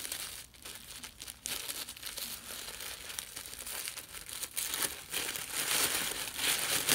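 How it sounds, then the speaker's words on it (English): Paper crackles and crinkles steadily while a mystery package is unwrapped, a dense, close, fairly quiet rustling with sharper bursts throughout and no talk. "Sorry for all the paper crackle."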